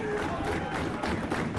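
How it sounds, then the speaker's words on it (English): A wrestling arena crowd roars in a continuous wash of cheering for two men in the ring, steady and loud throughout, with commentators' voices running over it. "the crowd, as you said, getting in, cheering on both men"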